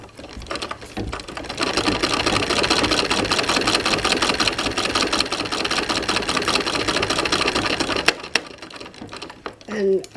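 A treadle sewing machine quilts fabric to the edge at a kitchen sewing table, its steady fast needle chatter running for about eight seconds before stopping, with faint movement afterward.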